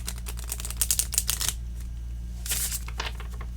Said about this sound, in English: So yes, I am going to do a riffle shuffle.